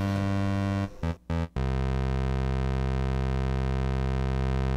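A steady, bright buzzing tone from an Olitronik Micrón synthesizer with the filter fully open, rich in harmonics, briefly interrupted by a couple of short dropouts before holding on as one sustained, unchanging note.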